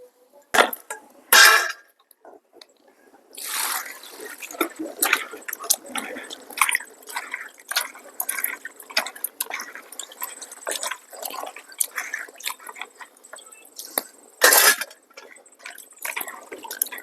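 Fried Chilika dry fish being rinsed by hand in water in a village kitchen, with repeated drips, splashes and wet squishing in irregular bursts, close and moderately loud.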